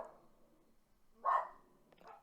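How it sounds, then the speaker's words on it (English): A dog in the room lets out a single sharp bark, then a softer yip, fairly close but brief against a quiet background. "that fucking dog, I swear to"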